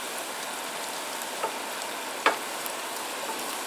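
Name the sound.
scrambled eggs frying with potatoes and bacon at campsite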